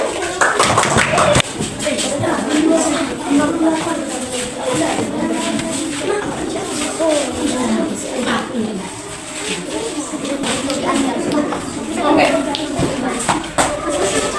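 Scattered clapping from a primary school classroom for a student group, mixed with chatter and shuffling from the children, fairly close and of moderate loudness throughout.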